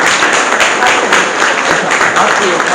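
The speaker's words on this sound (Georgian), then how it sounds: "გამაგრად გაგიხარდა ტაში დაუკარე." An audience at a writers' and creative artists' union celebration breaks into loud, sustained applause, a thick continuous roar of clapping with voices mixed in underneath.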